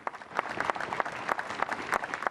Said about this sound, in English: Captain Sir Tom's family led the clap for the man who inspired a nation.